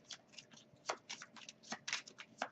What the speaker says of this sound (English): So now I must shuffle.